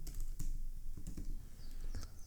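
Fingers type quickly on a computer keyboard while writing React component code for a Next.js and TypeScript web app, producing close, steady bursts of clicking keystrokes with brief pauses.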